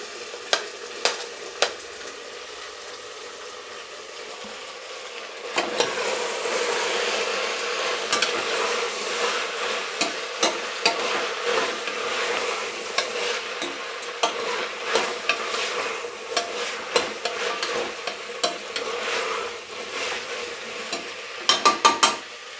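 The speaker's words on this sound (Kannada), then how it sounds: "ಇವಾಗ ನಾನು ಇದರಲ್ಲಿ ವೆಜಿಟೇಬಲ್ ಸಹ ಆ್ಯಡ್ ಮಾಡ್ಕೊತಾ ಇದ್ದೀನಿ" Vegetables sizzling in a hot pan while being stirred for avarekalu (lima bean) rice bath, a steady frying hiss with repeated sharp scrapes and clinks of the spoon against the pan, close and with no talk.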